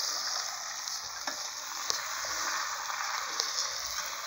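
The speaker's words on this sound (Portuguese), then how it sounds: "Tá fritando do outro lado" Tilapia fillet sizzles in hot oil in a pan after being flipped, a continuous bright crackling fry with scattered small pops, close and steady, no voices.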